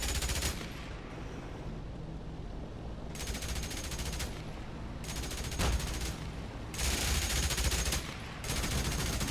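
Bursts of dense, rapid gunfire rake a convoy in the DCS combat flight simulator, several loud sustained volleys separated by brief lulls, with no voices.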